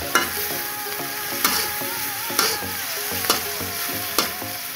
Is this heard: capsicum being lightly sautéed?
yes